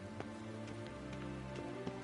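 Steady rain falls in the video game The Witcher 3: Wild Hunt, a continuous soft hiss with scattered droplet taps and a low ambient hum beneath, no voices.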